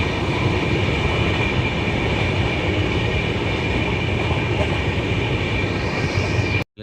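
The Pune–Kanyakumari express rumbles across the Nandalur bridge, a loud, continuous roar of wheels and carriages heard from on board, cutting off abruptly at the end.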